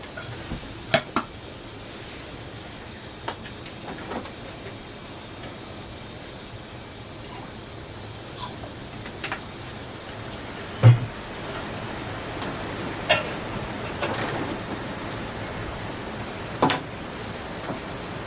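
A Kovea backpacker gas stove burns under a titanium pot with a steady, quiet hiss, broken by a few sharp metallic clinks spread through the stretch.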